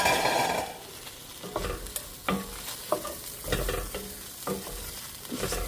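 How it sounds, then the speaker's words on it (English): Diced potatoes and garlic sautéing in a pan, with a steady close sizzle under repeated stirring scrapes and clinks of the spatula at irregular intervals. "Now for my 2 potatoes that I diced going in"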